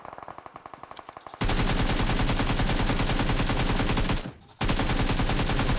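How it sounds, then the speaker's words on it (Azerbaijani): AK rifle fire in the mobile battle-royale game PUBG Mobile: a loud, sustained automatic burst that rattles on for several seconds, briefly drops out, then resumes, preceded by a quicker clatter of shots. "Bu AK'nin də gülləsə bax düz gibi."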